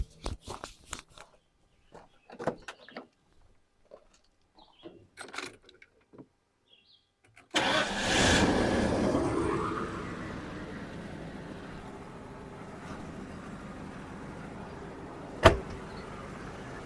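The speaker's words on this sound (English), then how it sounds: "I can actually start it up for you here so you can hear how it actually runs" A 1993 Ford F-250 pickup cranks after some faint clicks and handling noises, catches, and settles into a steady, fairly loud idle close by, with one sharp knock late on.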